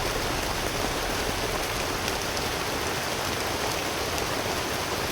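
Steady rain falls outdoors along a guarded path, a dense, even hiss that continues without a break for the whole stretch, with no voices.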